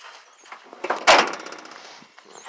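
The door of an old 1987 Chevy truck is pulled and slammed shut with one loud, sharp thud and a brief rattle, after some quieter handling noises.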